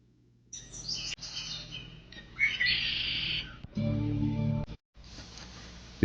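Migrating birds chirp and call across the Yukon Flats wilderness, a busy mix of bright tweets and squawks over a steady outdoor background, with the scene shifting between several different flocks.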